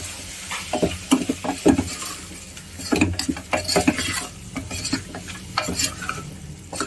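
Onion masala with turmeric and chili powder sautéing in a pan for a chicken dish, with rhythmic scraping and clinks of a spoon stirring over a soft sizzle, close and busy.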